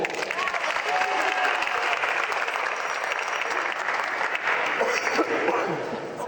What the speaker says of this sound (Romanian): Aplauze pentru el.